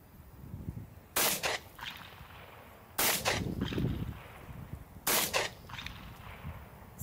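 A Masterpiece Arms Defender 9mm pistol firing three loud, sharp shots, each roughly two seconds apart and followed by a brief echoing tail, with quiet background between them.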